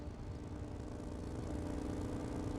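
Steady high-pitched whine of a V12 tank engine in the Sprocket tank-design game, droning evenly and fairly loud throughout with no voices.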